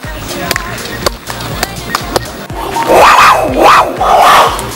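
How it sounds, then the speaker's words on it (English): A hand clap at a Maya pyramid in Playa del Carmen draws a strange chirping, warbling echo. Several sharp claps come first, then three loud, swooping echoes ring out with voices faintly in the background. "when you go up to the pyramid and you clap, it makes a very interesting echo sound"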